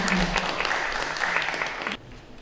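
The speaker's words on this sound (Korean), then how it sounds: "항암제를 개발하신 교수 박수 한번" Audience applause at a career mentoring event, a lively burst of many hands clapping for a professor who developed an anti-cancer drug, fairly loud, then cutting off abruptly near the end.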